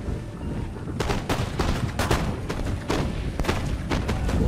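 Massed musket volleys crack out in Empire Total War, a dense run of loud overlapping gunshots rolling continuously with sharp repeated bursts and booming reports, no voices over it.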